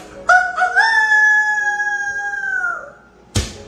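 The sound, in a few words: man imitating a rooster crowing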